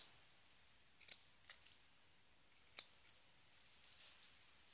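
Scissors snipping through hair during a haircut, a series of sharp, quiet, irregular clicks and cuts heard close in an otherwise quiet room, with no talking.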